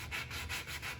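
A wooden picture frame is sanded by hand in three quick back-and-forth strokes, each a rough rasping swell, close and clear with no talk.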